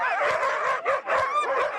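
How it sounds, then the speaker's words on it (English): Tiny sled dog puppies yip and whimper continuously in a dense, overlapping chorus of high-pitched cries, close by and fairly loud, with no one talking. "Tiny, tiny puppies"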